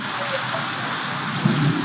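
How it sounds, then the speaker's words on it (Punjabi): Steady rain pours down after a spell of heat, a dense, even hiss of drops falling on surfaces with no break, fairly loud and close, with a faint low rumble late on. "ਇੱਧਰ ਦੇਖੋ ਮੀਂਹ ਆ ਰਿਹਾ ਮੀਂਹ"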